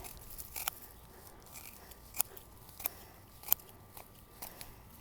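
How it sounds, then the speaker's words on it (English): Scissors snipping through a bundle of dried salad burnet seed heads, a series of about eight sharp, crisp crunching cuts at an uneven pace, close and quiet with no talking. "Take my scissors,"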